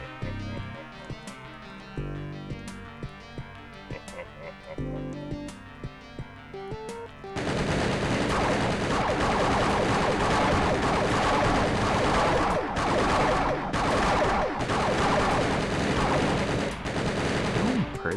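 Machine gun fire in a horror video game, sparse sharp shots at first over game music, then a long dense roar of continuous automatic fire.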